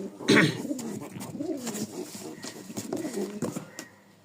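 Pigeons coo close by in a loft where birds are being handed over for delivery, a burst of low throaty cooing near the start followed by softer calls and shuffling, with a little background voice.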